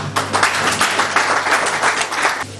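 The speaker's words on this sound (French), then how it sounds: "vous puissiez lui accorder le salut de l'applaudissement aussi" Brief burst of audience applause at a tech launch event, dense and fairly loud clapping filling the room for a couple of seconds.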